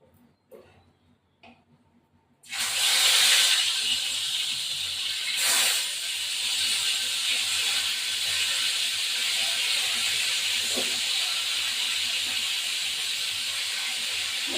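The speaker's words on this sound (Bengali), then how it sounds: "এবার আমি মাছগুলো ভাজা দিয়ে দেবো" Tilapia fish drop into hot oil in a home kitchen. A loud, sudden sizzle starts after a short quiet stretch and keeps hissing steadily close by.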